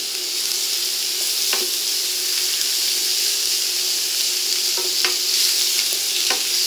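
Lardons fry with potatoes and onions in a pan, giving a steady, close, continuous sizzle. A few light scrapes and clinks from stirring break through it.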